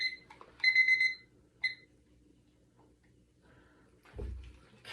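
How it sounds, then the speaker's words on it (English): A timer alarm sounds during an art journaling session, a few bright repeated electronic beeps in a short burst followed by one more brief beep, fairly quiet and alone. "There's our alarm."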